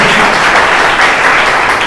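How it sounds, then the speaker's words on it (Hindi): A church congregation claps loudly together in a dense, steady wash of applause that fills the whole stretch without a break, with no voices standing out. "परमेश्वर जोर से ताली बजाइए"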